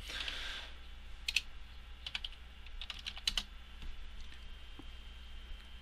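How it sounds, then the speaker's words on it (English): Fingers tapping number keys on a calculator, a quiet run of light, irregular clicks close by with short pauses between presses, over a faint steady room hum. "I was already typing in the number because I already did this"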